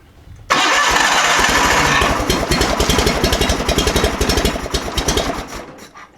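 A John Deere 318 garden tractor's Onan P218G twin engine cranks over on the starter, a loud, steady, rapid chugging rhythm that starts abruptly and runs for several seconds before tapering off, with no voices.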